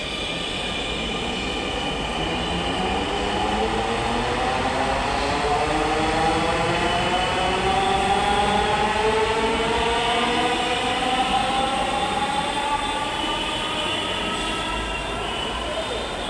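A Dhaka metro rail train rolls through Mirpur station, its steady loud rumble and rising electric motor whine filling the whole stretch without pause, with no clear talk above it.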